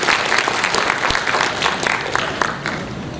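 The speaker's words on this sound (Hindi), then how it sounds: "जोरदार तालियां इस बच्चे के लिए" A crowd at an all-Maharashtra mushaira poetry gathering in Alibag, Raigad, gives a child loud, dense applause, with many hands clapping together in a continuous, close wash that lasts the whole moment.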